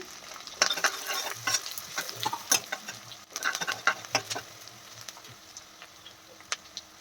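Thin-sliced onions and green chillies frying in oil in a pan for capsicum masala curry, crackling sizzle with irregular stirring clinks and spatula scrapes, close and fairly quiet, no voices.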